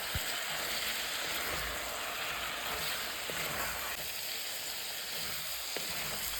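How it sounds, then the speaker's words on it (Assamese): Chicken fries in oil with coriander paste, giving a steady close hiss and sizzle with faint soft clicks, no voices. "অলপ সময় ভাজি ল'লোঁ তেল ওলোৱালৈকে"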